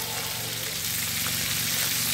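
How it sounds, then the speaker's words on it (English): Hake fish frying in a pan for pepper fish stew gives a steady, close, continuous sizzle with a dense crackling hiss throughout, with no talking. "Here is the fish, it's still frying."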